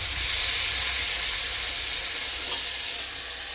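A loud, continuous sizzling hiss comes from cauliflower and potatoes frying in oil in a pan for a Bengali curry. It holds steady throughout with no talking.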